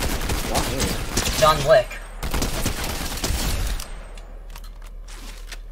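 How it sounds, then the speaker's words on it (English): Rapid bursts of video game gunfire crack out in dense volleys, then fade to sparser distant shots, while a player talks over the action. "Wait, who's that shooting?"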